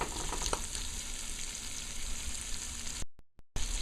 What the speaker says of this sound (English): So it's frying down nicely